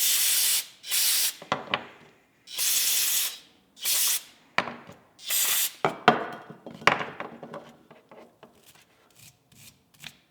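Aerosol brake parts cleaner sprayed onto old Yamaha dirt bike parts in several long hissing bursts, followed by a stretch of scrubbing and clattering handling noises, close and fairly loud with no talking.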